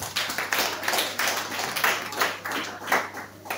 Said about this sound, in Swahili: Kwa sababu naelewa, jipigie makofi